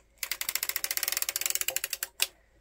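Close up, the crank of a sock knitting machine is turned while it knits a sock with a hung hem, giving a quick run of about two dozen ratcheting clicks that ends in one louder clack.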